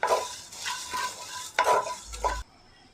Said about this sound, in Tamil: மீதி இருக்கிற கசகசா, பட்டை, கிராம்பு, ஏலக்காய் இது 3மே சேர்த்துட்டு ஒரு நிமிஷம் இதை வந்து நல்லா கிளறி விட்டுக்கலாம்